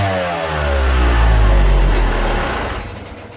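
A Yamaha YZ250 two-stroke dirt bike with a Keihin carburetor revs up near the microphone, its pitch rising and holding in a loud, buzzy climb before easing back down, with no talking.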